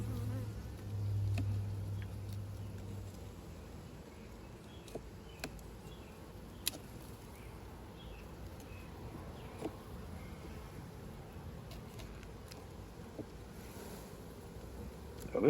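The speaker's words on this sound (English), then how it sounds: "What the bees do is they collect nectar and turn it into honey, and they cap it off with wax." Honey bees buzzing around an open hive during a frame inspection, a faint continuous drone with occasional light clicks and handling noises and a brief low rumble near the start.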